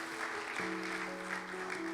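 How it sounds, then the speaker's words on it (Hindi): A church congregation claps in a steady, even wash that runs throughout. Sustained keyboard-like tones hold underneath the clapping. "जोरदार तालियां सिस्टर अमृता के लिए"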